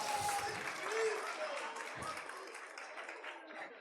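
Audience at a Brazilian comedy lecture applauding after a ketchup magic trick, a diffuse, moderately faint clatter of clapping that fades gradually, with some murmuring from the crowd.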